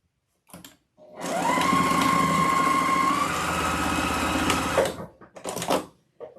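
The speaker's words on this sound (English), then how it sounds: "for right now, we just want to sew these 2 bottom pieces together" A sewing machine stitches two bottom fabric pieces together for an ice-skating elf wreath attachment, running in one steady, close whir for several seconds before stopping, with brief handling noises around it.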